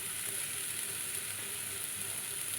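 Spice paste fries in a pan while liver is being cooked, a steady close hiss and sizzle that continues evenly throughout with no talk.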